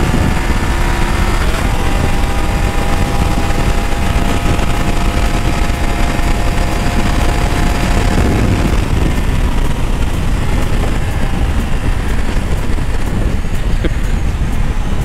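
A motorcycle engine roars loudly and close, revving and accelerating continuously with a harsh, buzzing tone over road noise.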